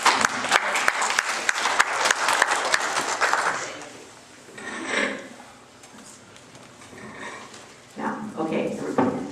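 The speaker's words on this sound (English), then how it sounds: "Let's give her a big round of applause." Audience applause for a speaker on federal oral chemo parity rises briefly, then fades after about four seconds into room murmur and speech-like voices.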